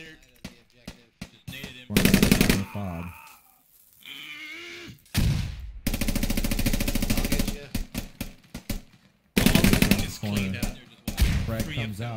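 Machine gun fire in the tactical shooter game Squad, loud sustained bursts of rapid automatic shots separated by brief pauses and scattered single reports, with a voice speaking between volleys.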